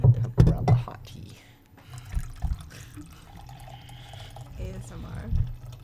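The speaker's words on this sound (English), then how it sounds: "I'll pour out the hot tea." Hot lavender Earl Grey tea is poured into a cup, with a splashing, trickling stream at the start and softer liquid sounds after, while voices are heard nearby.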